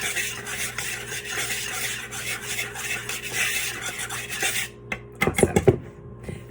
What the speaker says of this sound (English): And you're just gonna whisk that together a little bit.